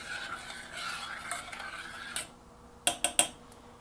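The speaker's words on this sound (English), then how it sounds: "Give it a quick stir." A spoon stirring rice and water in a cooking pot, a soft scraping swirl followed by three sharp clinks of metal against the pot rim near the end, close and fairly quiet.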